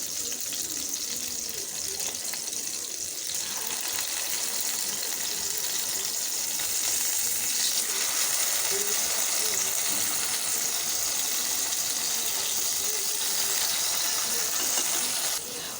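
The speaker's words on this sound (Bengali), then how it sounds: "তেলটা গরম হয়ে গেছে, এখন আমি একটু একটু করে দিয়ে দিচ্ছি" Small chanda fish fritters sizzling in hot oil, a steady, dense hiss of frying that holds evenly close up for the whole stretch with no break.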